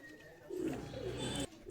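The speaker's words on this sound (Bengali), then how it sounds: "কবুতরটা খাঁচার মধ্যে ভয় পাচ্ছে" A pigeon in a cage coos softly in a low, throaty murmur, close by, with faint background noise.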